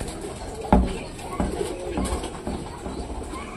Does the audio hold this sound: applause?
no